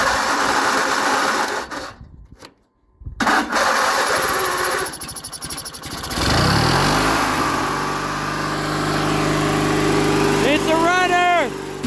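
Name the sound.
riding lawn mower engine starting and running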